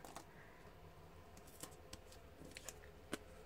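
Scissors snip through a tacky foam pad for a handmade card, a few sharp, quiet cuts spaced irregularly in a calm room, no voices.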